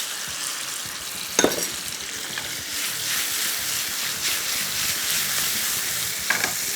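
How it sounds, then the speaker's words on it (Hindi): Chicken pieces cook in a hot pan with a continuous close sizzle and fry, stirred now and then with a couple of sharp utensil knocks against the pan, and no voices. "सबसे पहले हम इधर ऐड करेंगे बस ये सारा का सारा चिकन, इसको अच्छे तरीके से आपने पका लेना।"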